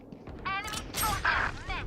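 Weapon reload in the video game Valorant: a quick series of mechanical clicks, creaks and metallic clacks over about two seconds, close and fairly loud, with a brief voice line mixed in.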